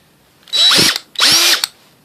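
A Dewalt 20V impact drill spins up in two short bursts of whining motor, each about half a second, close and loud, with a brief click at the end and no talk.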